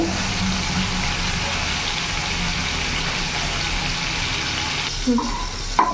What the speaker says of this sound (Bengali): আমি আরেকটু চিংড়ি মাছটা ভাজবো